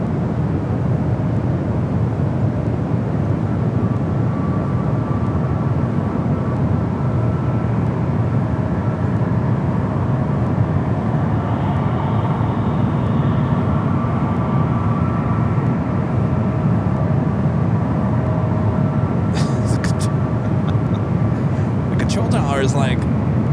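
Airliners taxiing at San Francisco airport, a loud steady engine rumble and whine continuing throughout, with brief clicks near the end.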